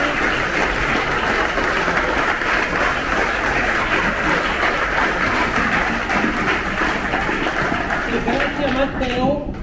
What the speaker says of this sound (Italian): Pietro, un applauso a Pietro.